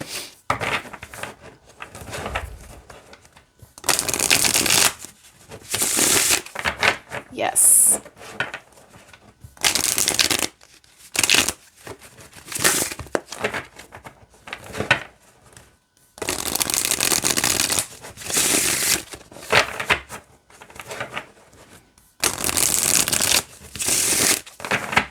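A deck of tarot cards is shuffled in repeated loud bursts of riffling and snapping, separated by brief pauses, with a single short spoken word at one point.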